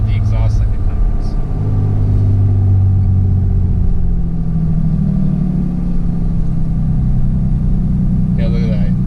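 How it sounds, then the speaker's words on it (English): Pickup truck on a snowy mountain road in a blizzard with the exhaust brake engaged, a loud steady engine drone that rises and falls in pitch, heard continuously from inside the cab. "We'll just let the exhaust brake do its thing."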